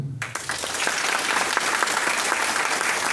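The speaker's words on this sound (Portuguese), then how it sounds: "Dá um aplauso ao Senhor." Church congregation applauding together, a dense sustained wash of many hands clapping that swells in quickly and holds steady and loud throughout.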